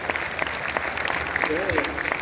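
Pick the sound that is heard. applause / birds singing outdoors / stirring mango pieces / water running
applause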